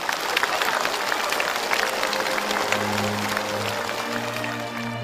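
Studio audience on a television show breaking into applause, a dense, steady clapping from a crowd, loud and sustained, with background music coming in partway through.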